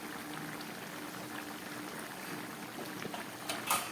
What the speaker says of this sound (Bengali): তরকারিটা একদম ফুটে উঠেছে